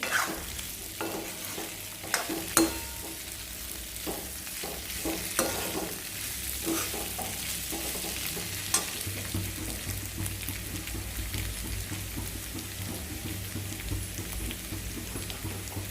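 Potatoes tossed in a pan with onions and spices for a dry aloo bhaji, a continuous close sizzle with regular stirring scrapes and clinks throughout, no talking.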